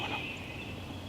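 Wild turkey gobbling outdoors during spring turkey season, one short rattling gobble that carries across the woods from a moderate distance, with nobody talking.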